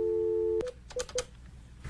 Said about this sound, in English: The number you have called is no longer in service.